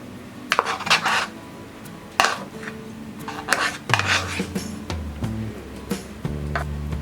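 A spoon scrapes and clinks against a bowl while ragi dosa batter is stirred with chopped onion, grated carrot, curry leaves and coriander, a busy run of close taps and rubbing strokes.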